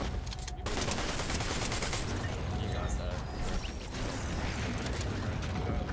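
Rapid pistol gunfire in a Fortnite battle royale match, a dense, loud run of repeated shots filling the whole stretch with little pause, mixed with other game noise and a voice talking over it.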